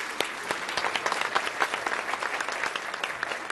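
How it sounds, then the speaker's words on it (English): An indoor audience at a county address claps steadily for several seconds, a dense, moderately loud patter with no voices over it. "How about a round of applause for all the private investors and county staff that are working on these projects?"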